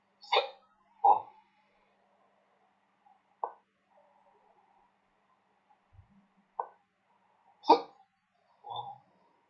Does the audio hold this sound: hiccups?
yes